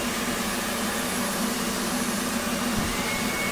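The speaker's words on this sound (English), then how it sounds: "We've also increased the canopy motor sound a bit." The canopy motor of an F/A-18 Hornet in DCS World whirs as the canopy closes, a steady electric drone over a low hum.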